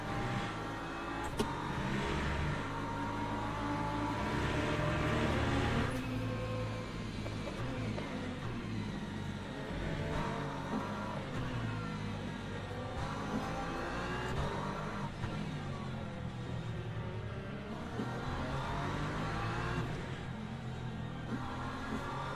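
BMW race car from Le Mans Ultimate, European Le Mans Series race, engine droning and revving steadily throughout at moderate level, with no talk.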